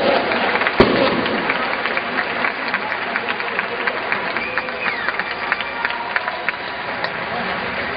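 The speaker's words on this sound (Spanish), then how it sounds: "Un aplauso para ella." Audience applause at a festival of trios, a dense, continuous crackle of many hands clapping with scattered sharp claps, loud and sustained for about eight seconds.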